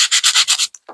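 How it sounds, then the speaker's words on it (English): Sanding block rubbed over the rough paper edges of a circle junk journal, six steady back-and-forth strokes close up, then a short scrape and a softer final pass. "our old friend sanding block, I would say take the rough edge, and we're going to smooth it down"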